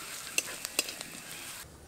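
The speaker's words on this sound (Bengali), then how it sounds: "মশলাগুলো দেওয়ার পর কিছুক্ষণ কষিয়ে নেব।" Turmeric and cumin powder with ginger-garlic paste sauté in a pan for a taro-leaf dish, making a quiet sizzle under a few brisk scraping stirs and light utensil clicks, with a short pause near the end.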